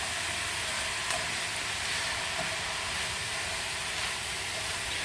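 Tomato sauce for a vegetarian moussaka sizzling in a pan while stirred, a steady close hiss and bubbling texture with no talk over it.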